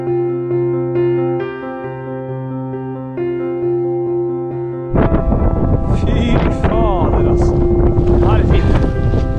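Wind buffets the microphone on a ski trek across the Varanger Peninsula in April, from Vardø toward Komagvær. A steady tonal drone plays first, then loud broadband rushing gusts take over for the second half.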